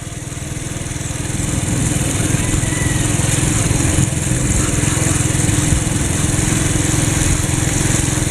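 A powered hedge trimmer runs while a man trims bushes beside a gravel road in Panglao, Philippines. It makes a steady, buzzing small-engine drone that carries on the whole time, loud and close.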